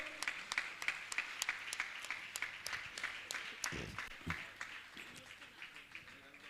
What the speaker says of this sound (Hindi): तालियां तो बजाइए आप लोग